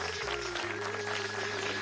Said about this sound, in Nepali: जोरदार ताली तपाईहरुको लागि